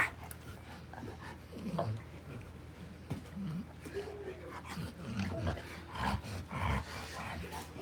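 Two male pit bulls, a large father and his son, roughhousing with low growls, huffs and panting breaths, close and uneven bursts of playful grumbling throughout.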